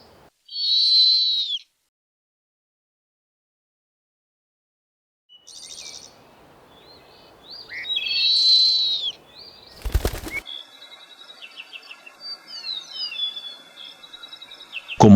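Two short, high owl calls ring out separately with silence between, followed by fluttering wing flaps and a sharp knock near the end.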